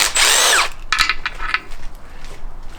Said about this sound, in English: let's get this intake manifold off.